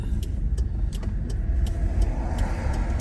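Car passing on a road through the redwoods of California's Avenue of the Giants, a steady, close tire and engine rumble with faint regular ticks above it.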